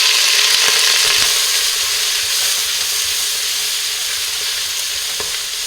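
Sliced onion and curry leaves fry loudly in hot ghee with cinnamon inside a pressure cooker for a one-pot Ambur chicken biryani. The sizzle is close and continuous, with occasional stirring clicks and no speech.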